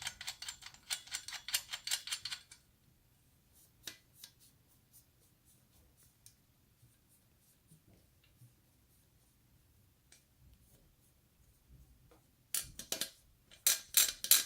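Sparse, sharp clicks from a trumpet valve missing its felt, clustering in quick rattling bursts at the start and end with isolated ticks in the quiet between.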